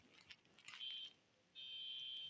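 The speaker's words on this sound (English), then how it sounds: "That's a high-pitched USA alarm." High-pitched US emergency alert tone: two faint, shrill steady beeps, the first short and the second longer, heard alone with no voices.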